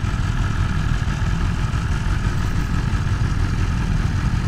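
A BMW S1000RR motorcycle engine drones steadily while being ridden, a loud, continuous low rumble that holds even throughout with no voices over it.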